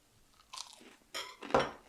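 Crisp, crunchy bites of just-cooked meat with parmesan are chewed close to the mic, three distinct crunches spaced about half a second apart, quiet otherwise with no talking.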